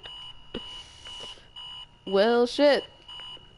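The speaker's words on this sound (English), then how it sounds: "Yeah, hit that alarm." An alarm clock in the video game Virginia beeps in a steady repeating electronic tone, with a brief spoken reaction cutting in over it partway through.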